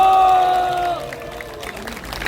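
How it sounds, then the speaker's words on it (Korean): An audience claps and cheers at an outdoor rally of Marine Corps veterans and families in Gwanghwamun, Seoul. A voice trails off as a dense, steady wash of applause rises and carries on to the end. "다 같이 일괄 그냥 박수로 함께 해주시면 감사하겠습니다"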